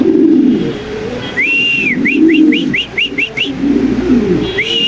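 A male pigeon gives low, repeated cooing phrases, while a quick series of thin, rising whistled chirps sounds close by in the middle.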